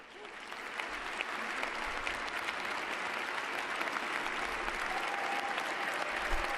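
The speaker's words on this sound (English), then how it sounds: "That they clap." Steady, dense applause from a large audience at a Donald Trump speech, loud and unbroken throughout, with a faint murmur of crowd noise beneath it.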